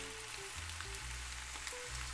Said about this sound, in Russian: А на эту сковороду я выложу лучок.